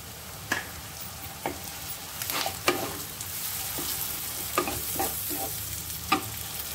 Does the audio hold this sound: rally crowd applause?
no